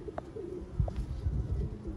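Sialkoti rooftop pigeons coo softly in a few short, low calls, with faint chirps and light background noise and no voices.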